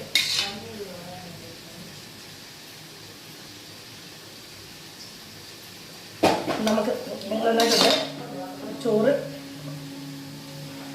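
A spoon scrapes and clinks against a metal pot while coconut milk rice is stirred, quiet at first, then bursts of loud scraping and knocking near the end, with a low background hum.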